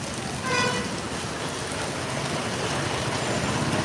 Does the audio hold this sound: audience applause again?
no